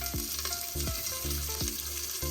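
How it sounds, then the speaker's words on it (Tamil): Onions fry in hot oil for mutton biryani, with a constant loud sizzle broken by a regular stir-scrape about every three-quarters of a second. "இப்போ எடுத்து வச்சிருக்க அனியன்ஸ் எல்லாத்தையும் போட்டுறேன்."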